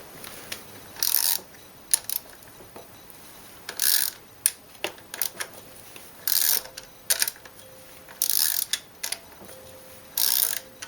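A wrench turns the camshaft bolts on a BMW E36 engine a quarter turn at a time. Short ratcheting clicks come in separate close bursts with quiet gaps between them.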